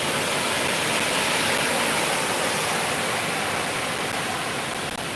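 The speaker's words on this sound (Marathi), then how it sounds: "इकडे बघू शकता कोकणामध्ये पाऊस बऱ्यापैकी लागतो आहे" Heavy monsoon rain and rushing floodwater in a Konkan village, a loud dense steady hiss and roar that fills the whole span with no break and no voices.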